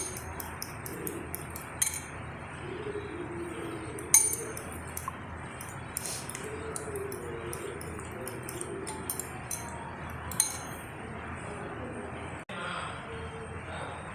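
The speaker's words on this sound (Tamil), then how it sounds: "இதெல்லாம் நல்லா கலக்கிக்கலாம்" A spoon mixes egg with garam masala, turmeric and chicken powder in a bowl, giving faint, scattered clinks and taps over a quiet background, with a few sharper knocks against the bowl.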